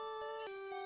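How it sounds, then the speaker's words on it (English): A small bell rings in a clear, steady chime that holds throughout, with a brighter shimmer of jingling joining in during the second half. "So we have a little bell."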